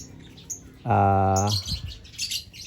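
A PB creamino lovebird gives one loud, close, harmonic call lasting about half a second, with faint chirps and rustles around it.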